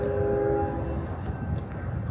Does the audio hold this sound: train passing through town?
yes